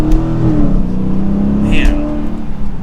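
A 2023 Dodge Challenger R/T Scat Pack 392 muscle car accelerating, its deep V8 exhaust rumbling loudly from inside the cabin with a rising engine note, steady and close.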